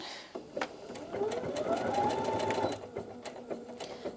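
A Brother Innov-is NV2700 sewing machine runs a lightning stitch, its close motor whirring and rising in pitch for about two seconds with rapid needle ticks before and after, no talking.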